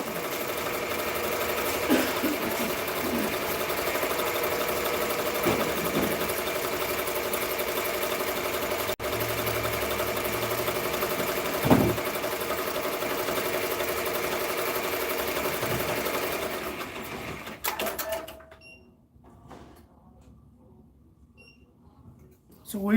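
An embroidery machine stitches patches with a continuous mechanical whirr and rattle that runs steadily for most of the clip before stopping, leaving near silence.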